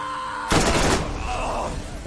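Gunfire from the first-person shooter video game Borderlands, a sudden loud burst of shots and booming impacts that cuts in after a quiet moment and carries on as a rough, dense rumble.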